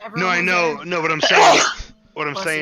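A single sneeze bursts out at a tabletop roleplaying game session, set between stretches of close conversation as several people keep talking around it.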